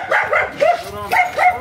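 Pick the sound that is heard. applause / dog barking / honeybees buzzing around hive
dog barking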